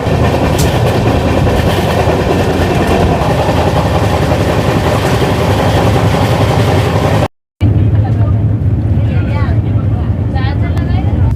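A fast Howrah–Puri Superfast Express (12837) train roars loudly and continuously with clattering wheels, heard from close by; a short cut of silence breaks it briefly before the rumble resumes.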